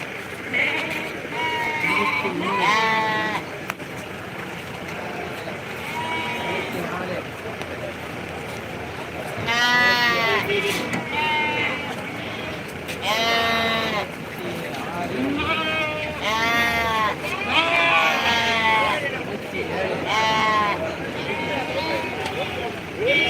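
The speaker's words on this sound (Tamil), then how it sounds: "பாருங்கள் நல்லா ஒரிஜினல் கொட்டு ஆடுகள்" Goats at the Ettayapuram livestock market bleat repeatedly in clustered calls that rise over a steady crowd murmur, with people talking throughout.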